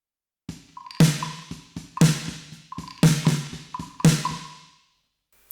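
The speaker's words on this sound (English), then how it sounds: "So my percussion instance of Tai Chi sounds like this." Percussion processed through a Liquid Sonics Tai Chi reverb plugin, several sharp hits in an uneven rhythm, each followed by a bright, washy reverb tail that blooms and decays, ending in silence.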